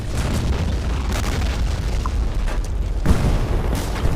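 A tank cannon fires in a World War II combat video game, heavy booming blasts with long rumbling tails, one near the start and another heavy hit about three seconds in, over constant low battle rumble.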